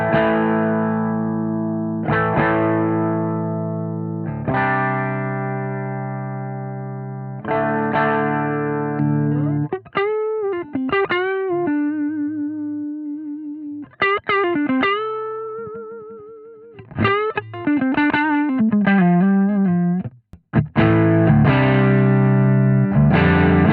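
Electric guitar through a Strymon Riverside drive pedal as its EQ is changed, with the breakup growing and shrinking: sustained driven chords give way to bending lead phrases and then return to loud ringing chords, with no voice.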